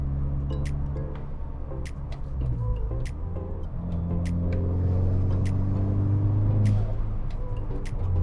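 Volkswagen MK6 GTI engine running steadily from inside the car during a power-loss diagnostic, a continuous low rumble with slowly shifting tones and faint ticking clicks, no talking.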